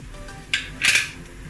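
A utensil stirring garlic in hot cooking oil in a pan gives two short metallic scrapes against the pan, close and fairly loud, over a faint steady background.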